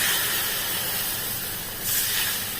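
Water goes into a pan of hot frying spice paste for a bhetki fish curry, producing a continuous close steamy hiss that dips briefly and then surges again.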